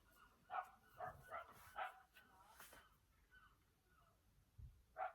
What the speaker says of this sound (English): I do have a dog barking outside